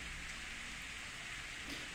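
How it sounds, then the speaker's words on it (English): Steady rain of an evening shower in the visual novel Steins;Gate hisses faintly and evenly, a soft continuous wash of falling drops with no other sounds. "Hey, it's raining."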